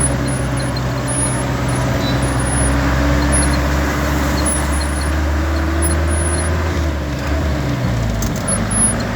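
Steady traffic roar on a wide highway, a constant loud rumble of passing cars and heavier vehicles with no break, heard close by.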